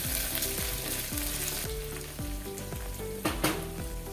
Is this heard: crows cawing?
no